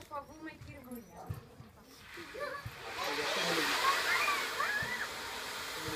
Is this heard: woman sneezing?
no